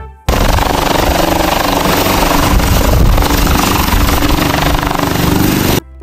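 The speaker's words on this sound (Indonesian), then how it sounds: "di sini ada helikopter" A toy helicopter runs with a loud, steady mechanical whirring and rattling that holds constant for about five and a half seconds, then cuts off abruptly.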